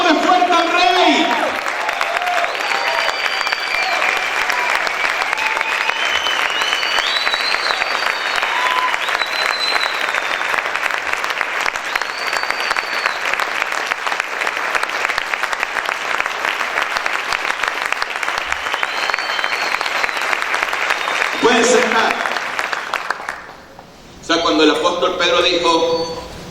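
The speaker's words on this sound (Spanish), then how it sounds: "Aplaude fuerte al Rey." A church congregation claps loudly and continuously during a Spanish-language worship service, a dense wall of applause lasting over twenty seconds with shouts and voices rising through it, then a brief drop before voices resume.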